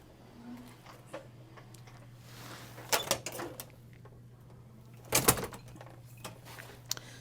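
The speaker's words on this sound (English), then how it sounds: "as the door swings shut, it may pop back out and not lock correctly" A wheelchair-accessible verandah stateroom door on a Disney cruise ship swings shut. Two separate clunks, the second louder, stand out against a quiet, humming cabin.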